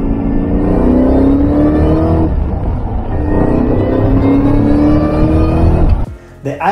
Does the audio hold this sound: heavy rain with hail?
no